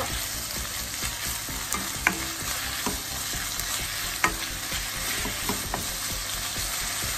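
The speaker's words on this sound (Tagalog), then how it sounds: "lagay na natin yung chicken kasi gusto ko siya guys mas maluto pa" Chicken frying in a pan on the stove; loud, steady close sizzle with occasional spatula scrapes and pops, no voices.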